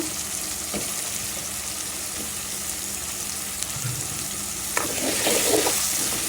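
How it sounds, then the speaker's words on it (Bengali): Potatoes frying in oil in a pan, giving a steady close sizzle with occasional stirring scrapes, swelling a little louder toward the end. "আলুটা দিয়ে দিলাম, একসাথে ভেজে নিব।"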